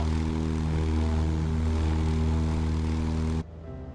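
A Cessna 172 propeller engine drones steadily in flight over New England in Microsoft Flight Simulator, a loud continuous hum with a strong even tone that drops abruptly in level near the end.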